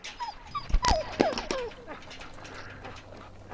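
A dog in The Walking Dead video game whimpers in a few high, pitiful whines, close and fairly clear, fading into quiet ambience.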